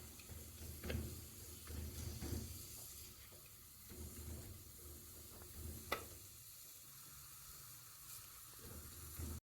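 Onion and garlic fry in a pot with a faint, steady sizzle while they are stirred, and soft scraping knocks recur throughout, with one sharper tap near the end.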